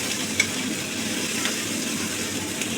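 Steady, dense sizzling of onions frying with sugar in hot oil, continuous and fairly close, with a few faint clicks and no talking.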